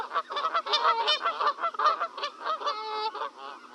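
Wild geese in the Netherlands honk in a dense, overlapping chorus of repeated nasal calls, loud and close, with no talking.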